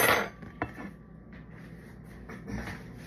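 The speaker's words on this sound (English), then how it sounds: "I took the casserole out of the oven." A tuna casserole dish comes out of the oven with a few close clinks and knocks of cookware, then quieter handling sounds and a soft thud near the end.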